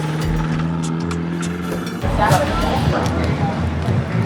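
Race cars at Laguna Seca track carry speed through the turns and accelerate hard out of them, a steady roar of engines with a louder car sweeping past midway, while a voice talks over it.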